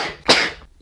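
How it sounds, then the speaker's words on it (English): A single short, sharp sneeze from one person indoors, close and fairly loud, with no talking around it. "That sneezing's not a symptom, by the way."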